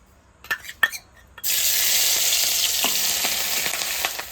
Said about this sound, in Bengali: লঙ্কা কুচি আদা কুচি আর রসুন কুচি এটা দিয়ে দেবো তেলে